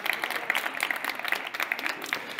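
A studio audience at a French-language talk show applauds its guests, a moderate patter of clapping with uneven bursts, fairly faint and without talk.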